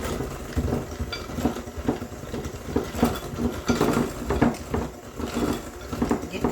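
Butter and sugar being mixed in a bowl for mocha chocolate chip cookies, a continuous close-up rhythmic scraping and patting of a utensil against the bowl with no pauses.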